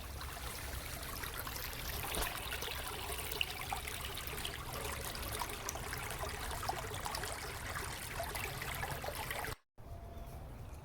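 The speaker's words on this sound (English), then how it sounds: "water's flowing." Water streams and trickles steadily close by at a dam, a continuous rushing babble with no other sounds.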